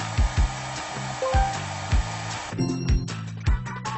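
An xCool SuperCare 2-in-1 hair dryer blowing air in a steady, close whoosh that runs throughout, with a rhythmic low thumping over it and the tone shifting partway through.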